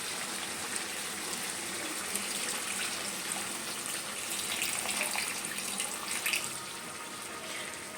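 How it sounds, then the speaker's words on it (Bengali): Water poured into a pot of chicken curry with potatoes, a steady broadband gush and splash lasting several seconds at close range, slightly louder toward the end, with no talking. "তো চলো জল দিয়ে দিই।"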